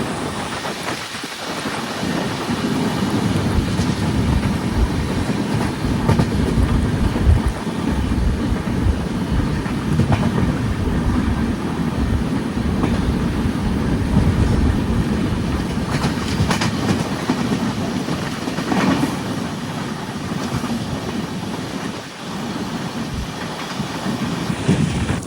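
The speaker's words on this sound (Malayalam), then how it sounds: "ട്രെയിൻ ഇപ്പോൾ കുംത സ്റ്റേഷനിലേക്ക് എത്തിയിരിക്കുകയാണ്" Poorna Express sleeper-class coach rolling along the rails on the Pune to Shoranur run, a loud continuous rumble with rhythmic clickety-clack from the wheels, steady throughout and heard from inside the carriage.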